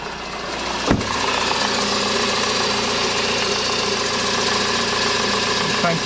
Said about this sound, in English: Let's see what the alternator sounds like.